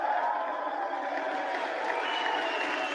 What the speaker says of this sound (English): how clownish can you be to keep on clapping for him like that?